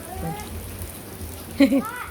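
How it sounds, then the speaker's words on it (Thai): Rain on a rainy day, with children playing in the water, makes a steady soft patter throughout, and a voice cries out briefly near the end. "เป็นวันฝนตก"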